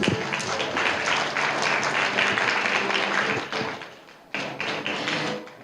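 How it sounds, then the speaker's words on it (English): Applause with distinct individual claps and a few thumps fills the room at an open parliament joint declaration signing ceremony. It dips briefly near the end, then picks up again before tapering off. "Once again, a big round of applause."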